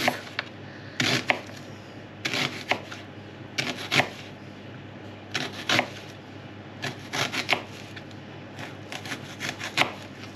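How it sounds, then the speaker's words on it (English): A knife thinly slicing halved onions on a board comes as short clusters of crisp, scraping cuts separated by brief pauses, close and fairly quiet, with no talking. "all I'm going to do now is thinly slice some onions, just on the half"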